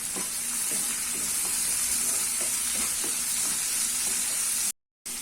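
Vegetables sauté in a pan with turmeric and salt for flattened rice upma, a steady close sizzle with soft stirring scrapes that ends abruptly in a short silence.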